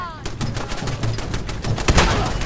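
Shotgun blasts in the video game Fallout 4, fired during a fight with raiders: a rapid run of loud, sharp booms close together, with a voice murmuring faintly underneath.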